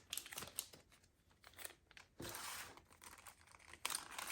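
Plastic bags being handled and crumpled, with irregular crinkling bursts and rustles, some sharp and some softer, close to the microphone with brief pauses between.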